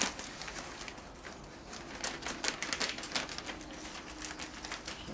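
Repeated crisp snipping clicks of scissors cutting through paper, close and irregular, with no talking.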